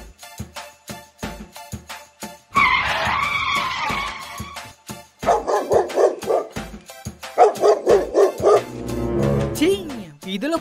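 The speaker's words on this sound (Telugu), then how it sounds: "వీధిలో కుక్కలు ఎక్కువైపోయాయి." Street dogs barking in a neighbourhood lane, several sharp barks in quick bursts near the end, mixed with a loud screeching noise and other sound effects in a comedy sketch.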